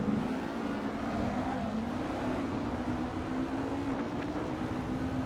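A race car in a sim racing game played on an Asetek Invicta steering wheel, its engine a steady sustained drone with a slowly rising pitch, loud and continuous with no talk over it.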